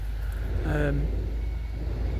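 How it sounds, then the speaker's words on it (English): A lorry or tractor passes nearby with a low, steady engine rumble, while a voice talks calmly over it. "I can hear a lorry going past, making rather a lot of noise, or a tractor or something"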